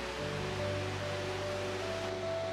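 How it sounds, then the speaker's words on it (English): Goðafoss, the horseshoe-shaped waterfall in North Iceland, gives a steady, soft, even rushing roar with no other sound. "Gottafoss is a spectacular horseshoe-shaped waterfall and a must-see stop in North"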